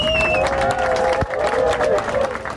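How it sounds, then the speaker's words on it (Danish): Passengers on a canal boat tour clap and cheer as a flashmob ends, loud close applause from a crowd with voices mixed in. "De sidder alle sammen og klapper i takt som lemminger til en grisefest på Mallorca"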